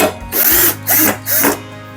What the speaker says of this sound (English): Now I have to fix this screw here.